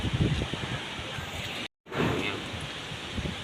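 Strong wind rushes across a microphone outdoors in Angul, Odisha, as dark clouds gather before a storm: a steady, loud roar of broadband gusting and rustle, broken by one brief dropout to silence.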